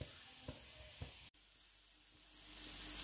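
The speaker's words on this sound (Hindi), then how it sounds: "बस 1-2 मिनट हरी मिर्चों को फ्राई करेंगे।" Chopped green chilies fry with whole spices in a pan, a steady broadband sizzle under two soft utensil knocks early on and a brief dropout midway before the hiss returns a little stronger.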